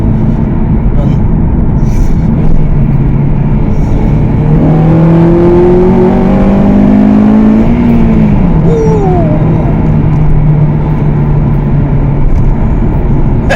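A Honda car drives along with a steady, loud engine and road roar, the engine note rising as it accelerates mid-way before easing off.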